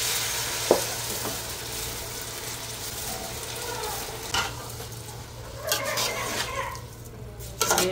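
Pilau rice frying and being stirred in a pan for a Kalo Jira pulao, a steady close sizzle with scraping stir strokes and a few clinks near the end.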